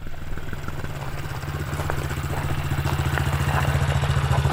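Motorcycle engine idling after a dirt-track ride, a close, steady rapid thumping putter that grows slightly louder, with no talk over it.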